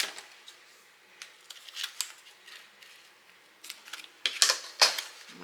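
Scissors snipping paper while crafting a scalloped poinsettia gift box, a series of quiet, crisp cuts and rustles that grow into louder, sharper snips near the end.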